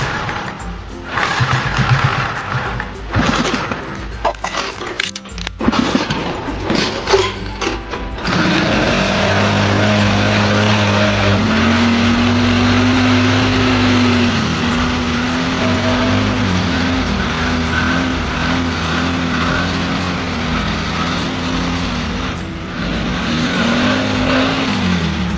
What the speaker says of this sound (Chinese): 正如你听见的，它的发动机声音相当的暴躁